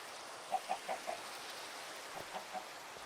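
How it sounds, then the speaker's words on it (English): Chickens in Minecraft give a few soft, quick clucks over a hissing rain-like background, a cluster of four and then two more, faint and close together. "Come here, chickens."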